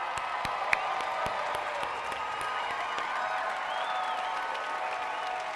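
Audience at a student welcome event applauding and cheering new students, a dense, steady wash of clapping from a large crowd with occasional sharper claps close by.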